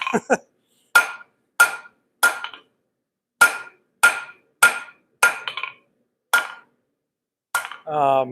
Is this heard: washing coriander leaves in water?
no